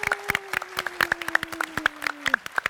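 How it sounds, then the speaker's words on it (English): An audience at a tech conference talk gives a round of applause, a short burst of scattered, fairly faint clapping with a steady faint tone underneath. "So if you could join us in giving them, not us, a round of applause."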